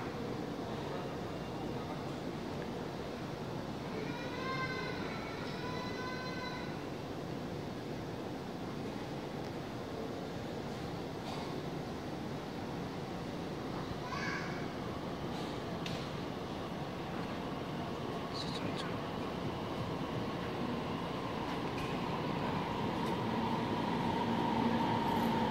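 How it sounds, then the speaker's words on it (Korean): A Nuriro passenger train bound for Seoul rolls into platform 6 at Suwon Station with a steady low rumble that swells louder toward the end, and a few brief high tones ring out partway through. "11시 43분에 서울로 가는 누리로 1282 열차가 타는 곳 6번으로 들어오겠습니다"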